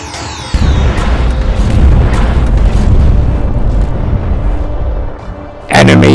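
Massed rifle volleys from sharpshooters in the game Second Empire crack out as a loud, rolling burst of overlapping booms and pops, followed by a short pause and a final sharp report.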